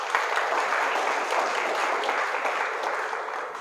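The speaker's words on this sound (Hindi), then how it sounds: "सबके लिए ताली बजा दो एक बार।" An audience at a network marketing seminar breaks into steady, dense applause that holds evenly throughout, with no voices over it.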